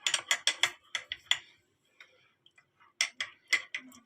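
Spoon clinking and scraping against a glass of cold tap water while cornstarch is stirred in, a quick run of sharp ticking strokes, a pause with faint taps, then another burst of rapid clinks, close and fairly loud.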